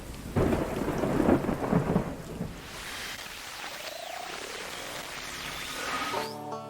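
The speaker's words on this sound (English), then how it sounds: "soon after that, it began to rain." A rainstorm with thunder: heavy rumbling rolls loudly over steady rain at first, then eases into a softer patter of falling rain before a brief tonal sound at the end.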